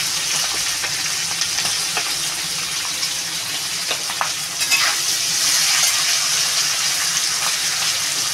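Potatoes fry with turmeric and slit green chilies in a pan as part of a prawn curry, a steady close sizzle with a few stirring scrapes and clinks running throughout.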